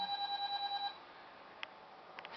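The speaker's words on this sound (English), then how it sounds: "That was my phone." A mobile phone alert chimes indoors as a rapid, steady run of bright electronic beeps that stops abruptly, followed by faint room noise and a couple of small clicks.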